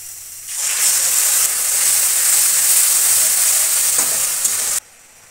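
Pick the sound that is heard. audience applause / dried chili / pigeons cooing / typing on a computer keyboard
dried chili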